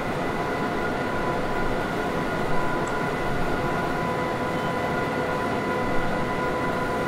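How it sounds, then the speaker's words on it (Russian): Deutsche Bahn BR 101 electric locomotive hauling a rake of coaches at speed in Train Simulator 2021, a steady loud rail rumble with tonal motor hum throughout and no voices. "такой вот довольно быстрый поезд"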